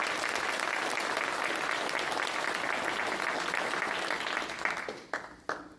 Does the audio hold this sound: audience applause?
yes